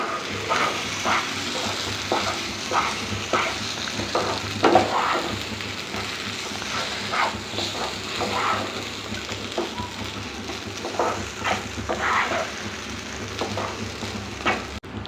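Ground coconut and moong dal frying and being stirred in a pan, a dense wet sizzle with rhythmic scraping strokes throughout and a few brief voice sounds.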